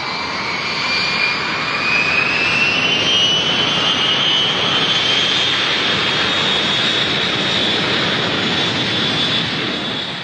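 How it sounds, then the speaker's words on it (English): Boeing 707 jetliner jet engines roar loud and continuous for about ten seconds, a broad rushing blast with a whining tone that slowly rises in pitch, with no voices. "That was the unmistakable sound of a Boeing 707 jetliner."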